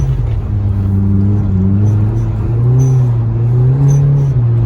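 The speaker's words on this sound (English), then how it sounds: "it's so easy to slide a car around in the snow." A 2011 Hyundai Genesis Coupe 2.0T drifts in snow, its engine holding a loud, close, droning rumble with rising and falling pitch as revs shift, no talk.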